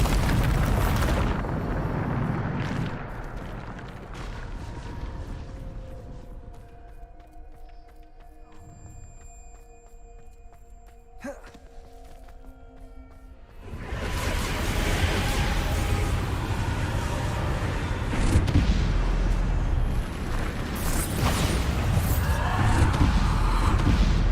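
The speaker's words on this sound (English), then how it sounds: "Bombarda" Bombarda explosion spell in the video game Hogwarts Legacy, with loud roaring blast and rumbling bursts at the start and again in the second half, around a quieter stretch of tonal game effects.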